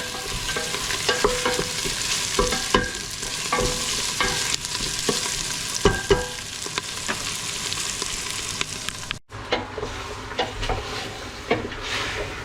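Garlic and onion sizzle steadily in a hot pan while a utensil stirs and scrapes through them in repeated clatters, the frying hiss cutting out briefly near the end before resuming.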